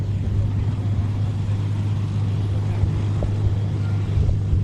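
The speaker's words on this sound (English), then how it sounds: "Listen to the fabulous rasp of those engines." Several T-6 Texan aircraft at an airshow give a steady, loud droning rasp of radial engines, continuous throughout with a low throbbing hum.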